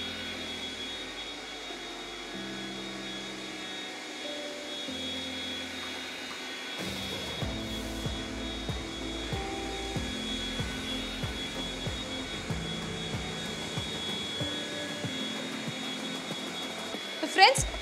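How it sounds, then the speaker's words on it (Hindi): A Philips SpeedPro Aqua cordless stick vacuum cleaner hums steadily while mopping a floor, with a voice talking over the motor noise throughout. "इस तरीके से हम ये वैक्यूम क्लीनर यूज कर सकते हैं"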